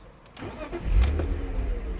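A BMW 323Ci E46, recently repaired after poor running and stalling, cranks briefly and fires straight into a steady close idle, the starter whir giving way to a low engine rumble.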